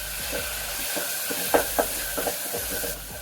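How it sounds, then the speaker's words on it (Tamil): Tomatoes sautéing in a pan for wedding-style sambar, a steady sizzle and frying hiss with several brief stirring scrapes and clicks, close up and with no one speaking. "இந்த தக்காளி கொஞ்சம் நல்லா வதங்கட்டும், அப்போ தான் சாம்பார் டேஸ்ட்டாக இருக்கும்"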